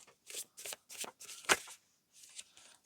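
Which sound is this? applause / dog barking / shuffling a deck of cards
shuffling a deck of cards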